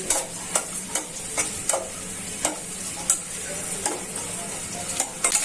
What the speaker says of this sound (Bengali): এখন তেলটা গরম হয়ে গেছে, পেঁয়াজ কুচিগুলো দিয়ে দিচ্ছি।